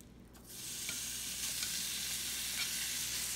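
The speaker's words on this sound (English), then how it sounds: "So basically we're frying up the bacon now" Steady, close sizzling of bacon frying in a hot pan, rising from quiet to a constant crackle that continues without talk.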